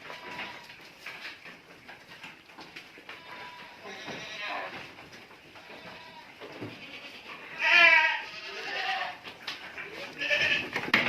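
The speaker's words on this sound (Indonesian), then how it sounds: "Berarti ini mungkin jenisnya jenis kambing etawa ini." Etawa dairy goats bleat on a livestock farm, with a few distinct cries standing out near the middle and end over background chatter and rustling.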